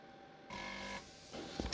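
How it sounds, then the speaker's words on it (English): A desoldering vacuum pump sucking solder from circuit board joints while repairing a Miele speed controller, a short whirring mechanical burst, a pause, then a quick snap of the plunger, close and faint. "I'm using a desoldering vacuum pump to suck the solder out of the joints"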